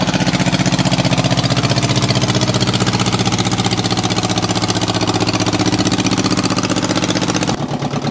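A Mitsubishi diesel tractor engine idles loud and close in a fast, steady chugging rhythm that runs without a break, with a brief change in tone right at the end.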